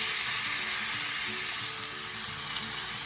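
Ground beef fries in a pan with a steady, close crackling sizzle and faint stirring, continuous with no talking.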